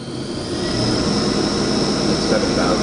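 A Haas VF2 CNC vertical mill from 2004 with its spindle spinning up toward 7,000 RPM, a steady close mechanical whine and broadband roar holding at a constant loud level throughout.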